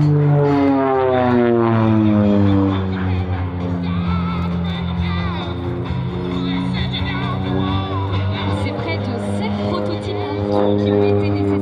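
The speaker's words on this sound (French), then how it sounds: "l'Ovedis Bronco revient sur notre droite" A North American OV-10 Bronco twin-propeller aircraft flies past at an air show, its droning engine tone loud and sustained with a shifting pitch, while an announcer talks over the pass.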